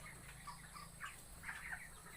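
Faint, soft clucking from 22-day-old broiler chickens in a pen, several scattered calls over a low steady background hum.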